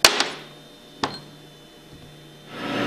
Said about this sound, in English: tap it out with a hammer